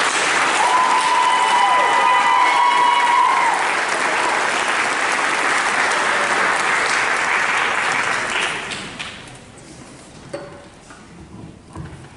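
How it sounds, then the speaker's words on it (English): A school concert audience gives loud, sustained applause for the band students in a large hall, with faint tonal ringing early on; after about eight seconds the clapping dies away to scattered claps and quiet room noise. "Can we have one more round of applause for all of our band students?"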